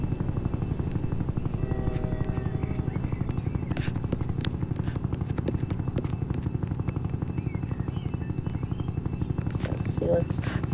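A Black Hawk army helicopter flies in a video game, its rotor chopping in a fast, steady, loud thump that runs throughout, with faint game effects scattered on top.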